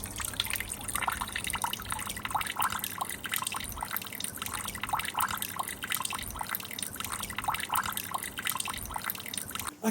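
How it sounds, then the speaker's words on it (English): Water trickling into a copper garden pond, a continuous soft splashing with faint rhythmic drips, close by and fairly quiet, no voices. "it's all about the sound of trickling water"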